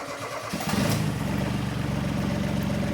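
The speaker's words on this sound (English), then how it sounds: "that's the engine running" An RMI Railworks 70-ton locomotive engine cranks and catches, then settles into a loud, steady, rhythmic idle chugging close by.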